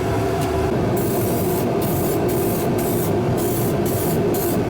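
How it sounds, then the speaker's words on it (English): Rubberized undercoating is sprayed onto the underside of an R34 Impala with a fancy spray gun, a loud continuous hiss at close range with repeated short pauses between passes, no voices. "Now we can go ahead and apply the rubberized undercoating."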